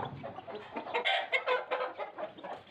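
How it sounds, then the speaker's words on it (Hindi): A black hen clucks repeatedly in short bursts, close and fairly loud, with soft scratchy farmyard rustling underneath. "ये रही काली मुर्गी"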